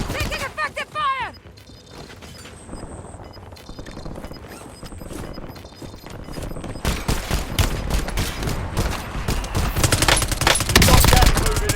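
Call of Duty: Warzone match audio with dense automatic gunfire bursts and rapid shots building toward the end, mixed with hoofbeat-like clatter and in-game voice callouts throughout.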